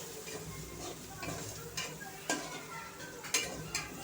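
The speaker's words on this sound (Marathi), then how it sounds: "घेवड्यासोबत मसाले पण परतून घ्यायचे आहेत तेलावरती" Ghevda beans and spices stir-fried in oil, a soft sizzle under a spatula scraping and knocking against the pan in irregular strokes, close but fairly quiet.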